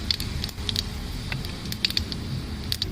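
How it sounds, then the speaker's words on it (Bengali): Bay leaf, dried red chilli, cardamom, cloves and cinnamon sizzle in hot oil in a pan, giving a steady close crackle and spit with scattered sharp pops throughout. "এখানে দিয়ে দিচ্ছি তেজপাতা, শুকনো লঙ্কা ফোড়ন"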